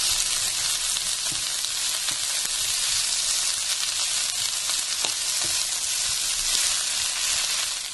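Lentils hit a hot oiled pan and fry with a dense, steady sizzle and crackle that holds evenly throughout, close and continuous with no voices.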